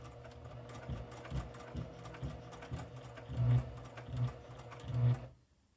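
A sewing machine stitches bias binding along a seam through many layers of custom fabric, running in short close bursts with brief pauses, its hum strongest toward the end before stopping.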